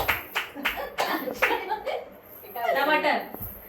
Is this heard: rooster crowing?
no